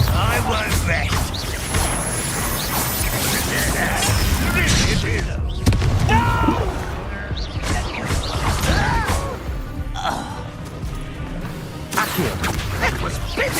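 Confringo blasting spells in a video game set off a run of loud explosive smashes and booms, with heavy thuds and crashes in irregular bursts against busy combat noise, with voices heard intermittently.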